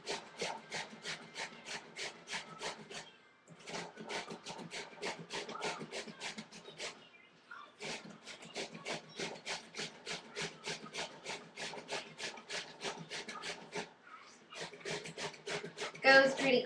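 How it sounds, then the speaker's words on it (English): Zucchini rubbed down a grater in quick rhythmic rasping strokes, close and crisp, in bursts separated by short pauses. "Nice full grate so you get a nice size portion to the zucchinis."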